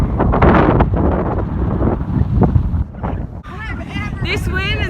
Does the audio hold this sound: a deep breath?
no